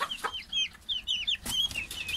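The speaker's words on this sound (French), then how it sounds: "Alors ça c'est un coq. Et les 2 poules, voilà les 2 poules." A Legbar rooster and two hens cluck close by in quick, overlapping chatter, with repeated short chirping calls running steadily throughout and no human voices.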